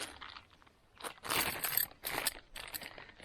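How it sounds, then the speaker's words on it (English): Close crinkling and crunching of a thin plastic bag from a Naturehike Cloud Up Two tent, handled in short bursts with brief quieter pauses between them. "Plastic bag, get rid of that."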